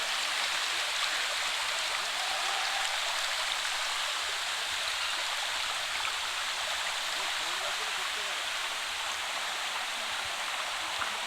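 Water runs down from forested hills near a hill temple on the Andhra Pradesh–Telangana border as a steady, broad rushing stream that stays continuous and fairly loud throughout, with no distinct changes.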